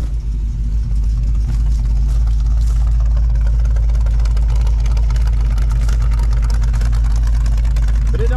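Engine of a 1980 Chevrolet G-20 van, recently fixed after a ticking valve was adjusted and after sitting a long time, runs at a loud, steady idle with a deep, even drone close by.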